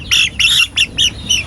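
A native rooster, black and white spotted, gives five loud, harsh squawks in quick succession, each short and sharp with brief gaps between, close by and with no talking.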